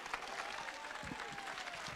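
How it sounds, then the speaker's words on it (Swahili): An audience applauds at a security forum in Nairobi, a faint, steady patter of many hands clapping that runs without a break for two seconds. "Makofi."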